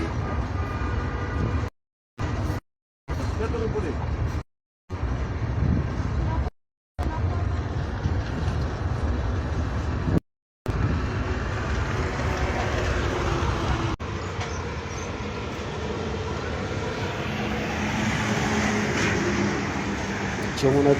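A train crosses the Jamuna river bridge, which also carries buses, with a steady low rumble of wheels and carriage noise heard from on board. Voices talk over it, and the sound cuts out briefly several times.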